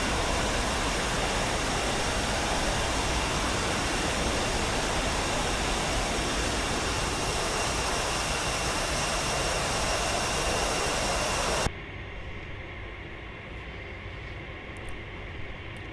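A steady, loud roar from the L-39C jet trainer's engine in the DCS flight simulator, a continuous broadband rush that drops abruptly to a quieter hum near the end.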